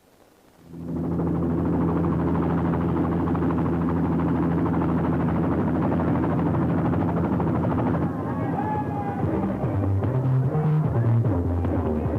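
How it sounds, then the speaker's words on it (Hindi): Helicopter arriving in an action movie scene, its loud throbbing rotor and engine drone swelling in within a second and holding steadily, with voices and other sounds rising near the end. "हेलीकॉप्टर से आप आए?"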